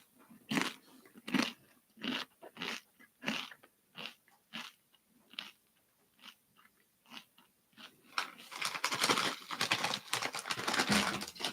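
Someone crunches Doritos chips close up, with a series of sharp, uneven bites and chews that build into denser, continuous crunching near the end.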